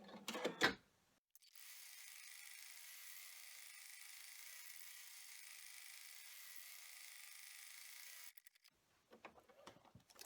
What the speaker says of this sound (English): it back to the machine. And for the outside bag, we are going to run the finished stitches for the triple bean stitch